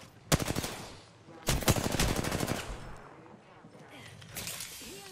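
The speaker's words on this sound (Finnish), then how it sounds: "Ampuu ulkopuolelta" Video game gunfire in rapid automatic bursts, two loud close volleys early on and then fainter, more distant shots, with a voice talking in the background.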